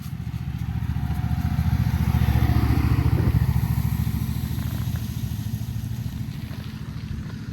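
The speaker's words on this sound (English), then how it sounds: "they're blowing the leaves off the trail right here for the runners." Leaf blowers clearing fallen leaves off a rail trail for runners; a loud, steady engine drone with a pulsing low rumble, continuous throughout and swelling slightly midway.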